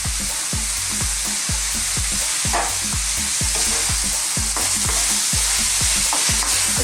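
Chicken and spring onions are stir-fried in a hot pan, a constant loud sizzle broken by a quick, regular rhythm of stirring scrapes and clacks, with no talking.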